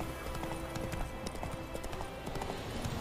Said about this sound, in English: what is this horse trying to do?